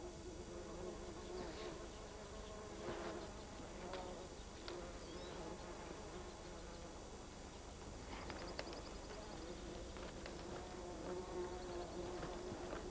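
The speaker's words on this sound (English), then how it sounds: "Mosquitoes, warble flies, and nostril flies are just some of the pests that harass both woodland and barren ground caribou." Swarming mosquitoes, warble flies and nostril flies around woodland and barren ground caribou give a steady insect buzz and whine throughout, with scattered louder passes close by and faint background activity.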